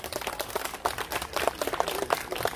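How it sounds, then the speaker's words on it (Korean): Audience clapping welcoming performers onto a stage at an outdoor Korean festival in Gapyeong, a crowd's brisk applause with scattered sharp hand claps, moderately close and continuous throughout. "우리 큰 박수로 한번 맞이해 주시길 바라면서 소개합니다."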